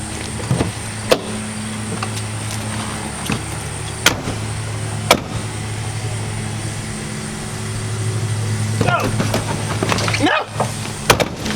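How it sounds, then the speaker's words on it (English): Vehicle doors on a truck slam shut in sharp, separate thuds at intervals during a quick race around the parked truck, with a steady low engine idle humming underneath throughout. "We are going to open our doors, run around the truck, get back in, close the door."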